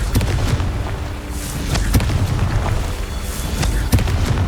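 Repeated magical blasts from the Confringo fire spell in Hogwarts Legacy, a steady string of booming bursts about every second or so, loud and close over a dense rumbling background.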